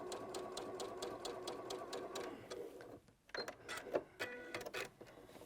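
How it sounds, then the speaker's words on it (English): A sewing machine stitches a quilt block in quick, steady needle strokes, pauses briefly, then continues in shorter irregular bursts, close and fairly quiet, with no talk. "Just going to sew this"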